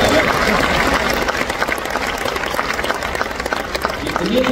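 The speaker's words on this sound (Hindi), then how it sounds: "जितनी तालियां एयरपोर्ट के नाम पर मुझे सुनी" Applause from an audience in a university auditorium during an address to a community gathering, a dense, sustained wash of clapping from a large crowd, fairly loud and continuous, with some voices underneath.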